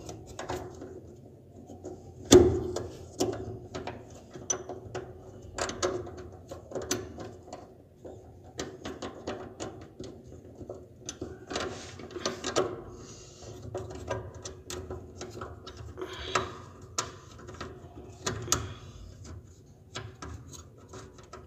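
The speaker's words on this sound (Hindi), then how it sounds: "तो मैं इसको नट को खोलता हूँ।" A nut is worked loose on a washing machine's belt pulley, with close, intermittent metallic scrapes, clicks and rubbing taps spread over a fairly quiet stretch, and one sharper knock early on.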